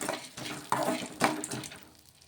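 A spoon stirs dry coconut and roasted gram into green chillies in a pan, giving soft scraping and rustling strokes that rise and fall in a few quiet bursts before tapering off.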